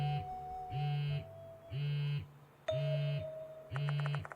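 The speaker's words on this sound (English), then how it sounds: "The sound of a phone vibrating echoes in the room." A phone vibrating in a room in the horror game Spirit Hunter: Death Mark II, heard as five evenly spaced buzzing pulses of about half a second each, moderately loud and alone, with faint electronic chiming near the end.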